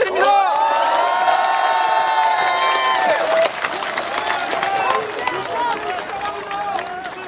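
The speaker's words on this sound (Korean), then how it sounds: "힘찬 박수 부탁드립니다." A large crowd at a political rally in Pyeongtaek cheers and applauds loudly and steadily, with whoops and shouts over the clapping.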